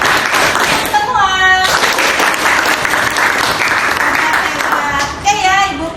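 A class of students claps together in a counted rhythm at a school lesson, the claps dense and close over a steady murmur, with a voice calling out over them and tonal chiming sweeps passing twice.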